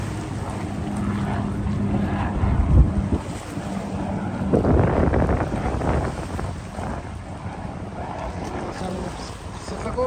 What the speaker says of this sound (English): all the waves crashing up over there.